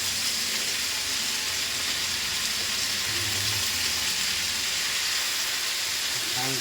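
Sautéed chayote and squash being stirred in a pan, a steady loud sizzle and hiss of frying with faint scraping throughout.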